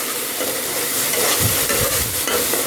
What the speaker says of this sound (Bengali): পেঁয়াজটাকে একটু ফ্রাই করতে হবে,